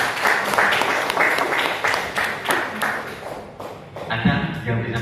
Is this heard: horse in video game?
no